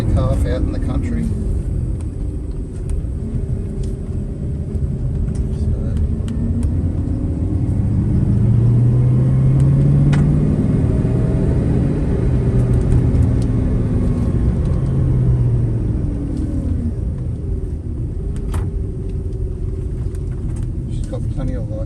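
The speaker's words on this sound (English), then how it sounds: "These 351s were still a nice driving motor." Car with a 351 V8 engine driving on a country road, a steady low rumble heard from inside with a slight rise in engine pitch mid-way, while someone talks over it.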